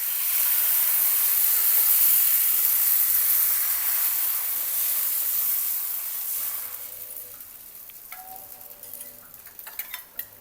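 A rice-flour ghavan pancake hisses and sizzles in an oiled kadhai, loud and steady at first, then softening into quieter crackles with a few light clicks.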